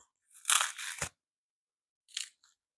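Stiff bristles of a Princeton Dakota paint brush crunching as they are bent, a close crackly burst lasting about half a second, then a shorter, fainter crunch after a pause.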